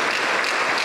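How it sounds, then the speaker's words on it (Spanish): A brief burst of loud, dense applause from a church congregation during a sermon, continuous clapping for under a second. "Denle un aplauso fuerte para Cristo."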